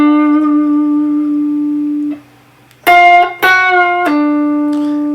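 Electric guitar playing a lick with string bends and pull-offs, sustained clean notes ringing alone, then a brief gap before a few sharper plucked notes.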